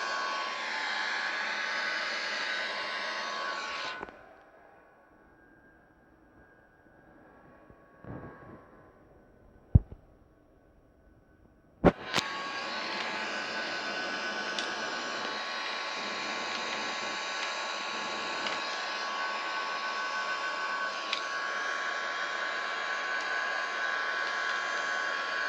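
Airbus A330 jet engines in a flight simulator game make a steady, loud whooshing roar that drops away to near quiet for several seconds, then surges back abruptly and holds at a constant level.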